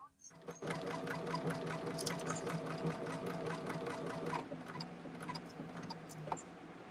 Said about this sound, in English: Then you're ready to go ahead and sew the next 2 sides on.